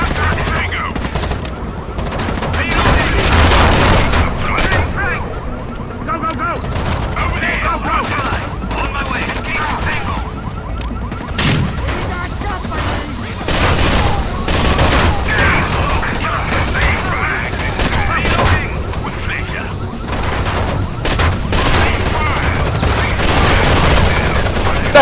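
Rainbow Six: Vegas gunfire in bursts and single shots alongside steady mechanical clatter, loud and sustained across the whole stretch, with occasional brief voices.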